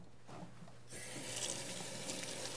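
Tap water runs into a kitchen sink while hands are washed, quiet and muffled at first, then swelling into a steady, full rush about a second in and flowing on without pause.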